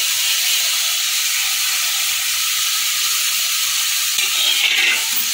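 Egg and prawns hitting chilli garlic noodles in a hot pan, a loud close continuous sizzle and hiss that swells briefly near the end.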